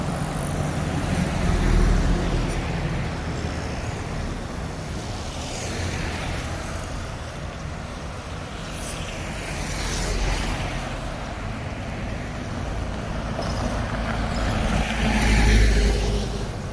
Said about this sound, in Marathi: गाड्या भरपूर फास्ट येतात सगळीकडं